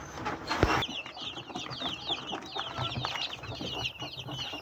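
Chickens cluck steadily among chicks and quail in a backyard poultry pen, a dense overlapping chorus of hens and fowl heard close, with a brief louder thump near the start and no talking.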